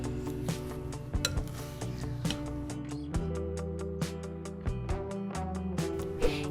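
Spoonfuls of homemade cooling foot scrub scraped into jars, with soft metallic clinks and scrapes of a spoon against containers repeating every second or so, close and quiet.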